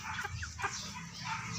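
Young chickens, a few months old and kept in a backyard pen, give soft scattered clucks and chirps against a low background hum, faint and brief.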